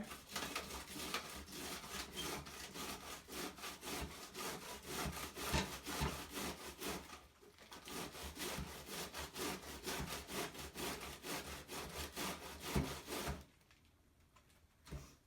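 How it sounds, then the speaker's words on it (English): Cabbage rubbed up and down on a stand grater, giving a fast rhythmic scraping and rasping that runs steadily, pauses briefly, resumes, then stops near the end. "grab the cabbage in your hand and run it up and down along the grater."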